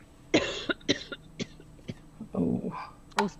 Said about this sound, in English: Oh, excuse me, I'm in a bit of a cough.